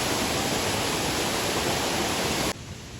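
Kaigal waterfall gives a loud, steady roar of falling water at close range. The roar drops away sharply near the end to a quieter rush.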